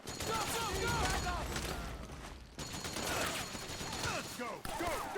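Rapid bursts of video-game gunfire from Metal Gear Solid 4 crackle through a battlefield scene alongside shouted voices, with dense overlapping shots and a brief lull midway.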